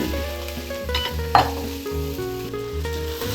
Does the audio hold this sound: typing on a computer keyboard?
no